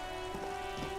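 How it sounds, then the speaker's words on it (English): Steady rain patters on the white-and-blue police livery of a motor carriage in the video game Disco Elysium, a continuous close drizzle with a low constant tone running beneath it. "Droplets of rain fall on the white on blue police livery of the motor carriage."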